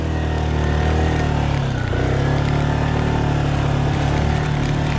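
A loud, steady motorcycle engine drones close by in first gear on a mountain climb, its low rumble holding a strained, even pitch throughout as if labouring at low speed; no voices.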